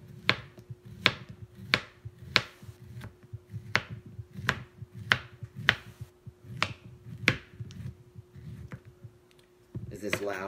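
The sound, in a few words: knife chopping food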